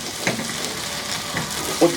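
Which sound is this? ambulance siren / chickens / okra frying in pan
okra frying in pan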